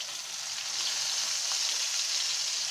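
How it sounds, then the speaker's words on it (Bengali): Chicken pieces for steak frying slowly in oil, a dense, even hiss of sizzling that holds steady throughout, close by with no voices. "আমরা চিকেন গুলোকে এপিট ওপিট করে ই করে নিচ্ছি, ভেজে নিচ্ছি, তেলের ভিতরে রান্না করছি আস্তে আস্তে"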